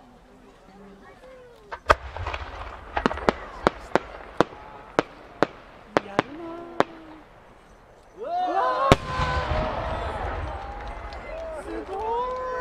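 Size 8 aerial firework shells bursting at the Aizu fireworks competition in Japan: a run of sharp, loud booms spaced about a second apart, then a denser crackling stretch, with spectators exclaiming and chatting over it.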